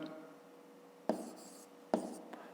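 A pen scratches across paper close by as a math exercise is written out, with soft, faint strokes and a few sharper taps.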